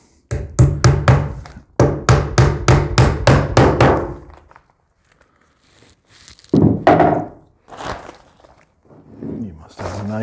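Hammer driving nails through house wrap into a wooden door jamb on a small solar power shed, two quick runs of sharp, evenly spaced blows, close and loud, followed by quieter handling and a voice talking.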